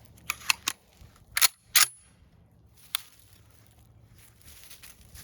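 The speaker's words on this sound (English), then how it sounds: "Up next, same shotgun, but we're gonna shoot the Federal 2 3/4 inch number" A Remington 1148 shotgun from 1956 with a 28-inch fixed modified barrel fires in sharp, snappy reports: a quick cluster of cracks, then two more, and a last lone crack, each brief and separated by quiet.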